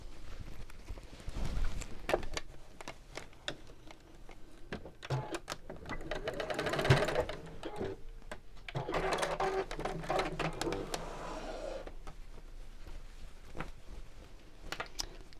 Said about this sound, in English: I'm going to sew the ends of the zip together just to hold them in place